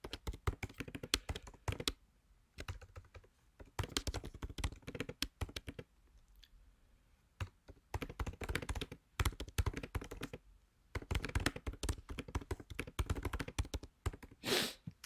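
Typing on a computer keyboard while setting up a WordPress blog: close, crisp key taps in quick bursts separated by short pauses, with a louder clack near the end.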